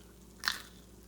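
One quick, crisp crunch as someone bites into oven-broiled crispy chickpeas, a brief close snap against a quiet background.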